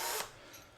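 A power drill grinds against the metal casing of an NAD CD receiver, a short steady burst of broadband whirring and scraping that is loud at first and then eases off slightly.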